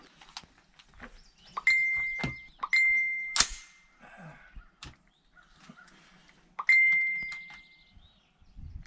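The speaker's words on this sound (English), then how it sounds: "Somebody's phone blowing up." Three short electronic notification dings from a phone at an outdoor public shooting range, each a clean sustained tone, spaced apart amid quiet outdoor ambience.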